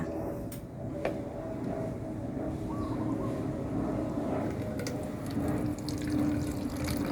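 Tomato juice being poured into a spray bottle, a steady close trickle of liquid running continuously with faint clinks, quiet and without talking.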